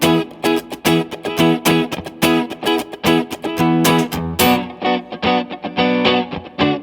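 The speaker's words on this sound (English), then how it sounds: "You can hear that first loop, the percussion, and the chords are extended." A Ditto+ looper pedal plays back an extended loop of layered percussion and strummed chords, a steady, loud rhythmic groove repeating throughout with no voices.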